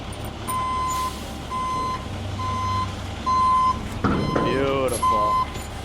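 A hook lift truck reverses, its backup alarm sounding a steady series of regular, evenly spaced beeps over engine rumble, with voices and a clanking, rising mechanical whine joining near the end.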